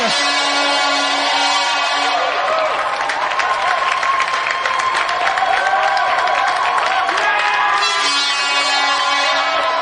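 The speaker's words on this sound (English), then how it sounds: "So let's have another round of applause for a true champion, Shango Stapleton!" A studio audience on a television games show applauds and cheers a champion, a loud continuous burst of clapping swelling in the middle over a bright electronic music backing.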